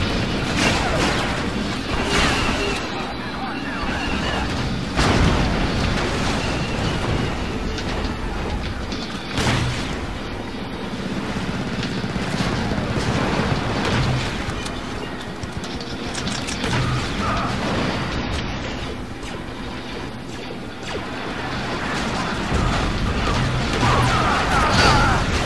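Rocket blasts and crashing explosions from the Star Wars Battlefront II video game, a dense, continuous battle din with repeated heavy booms and impacts that stays loud throughout, and no voices on top.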